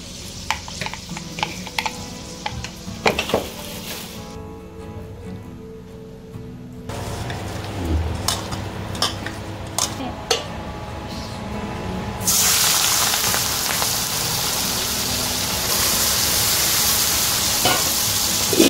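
Fenugreek seeds hitting hot oil, then marinated fish frying in the pan, with stirring clinks and scrapes that give way to a loud, steady sizzle rising in the last stretch, close up and with no talk.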